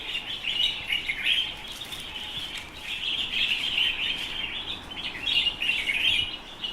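Birds chirp and trill in bright, repeated bursts over a soft, steady background hiss, fairly close and lively, among palm trees in The Gambia in the morning.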